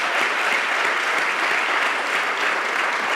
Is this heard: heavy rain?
no